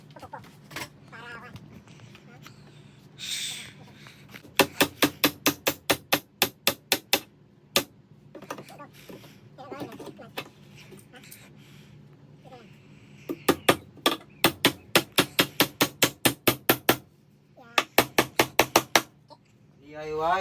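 Nails are driven into a wooden frame with a hand hammer in quick bursts of sharp, loud, evenly spaced blows, with pauses where people talk between the volleys.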